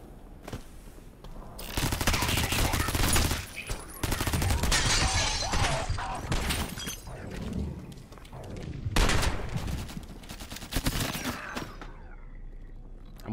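An MP7 submachine gun firing in the video game Out of Action, with loud bursts of rapid automatic fire in several long volleys separated by brief pauses, nearby and dominant.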